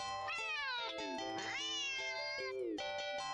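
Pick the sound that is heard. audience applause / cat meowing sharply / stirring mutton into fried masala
cat meowing sharply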